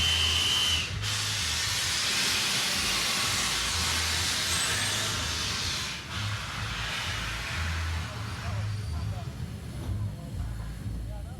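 A steady, loud hiss of escaping steam from the preserved steam locomotive Flying Scotsman on the Keighley & Worth Valley Railway, with a low rumbling hum beneath and a brief dip in the hiss partway through.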